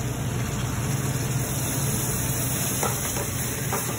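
Tomato sauce goes into a hot pan for pasta puttanesca, giving a steady, even sizzle and frying hiss that holds at one level throughout, close and fairly loud.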